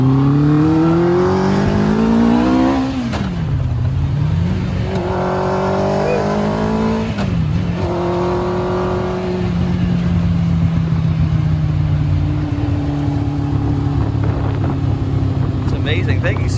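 A Caterham Seven kit car fitted with a Kawasaki Ninja ZX-9 motorcycle engine and sequential gearbox screams through rapid upshifts, each pull climbing steeply before dropping, then settles into a high steady drone, loud and close.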